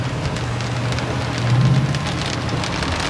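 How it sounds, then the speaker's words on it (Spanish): Heavy rain pounds steadily on the roof of a motorhome during a strong storm, a dense close drumming with a low rumble swelling midway, loud and without talk. "Se nos largó una tormenta, miren."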